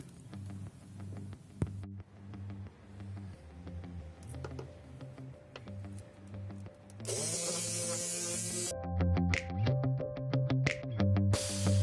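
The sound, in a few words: electric mouse sander sanding wooden board for pyrography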